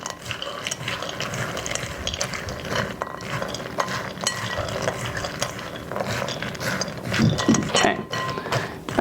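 Mixed herbs, thyme and cayenne are stirred together in a bowl, making a continuous close scraping and clicking, steady throughout with a brief busier patch near the end, and no voices.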